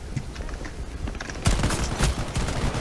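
Gunfire in the online shooter Shatterline: dense, overlapping automatic bursts that swell into a loud, sustained fusillade halfway through, with no talk.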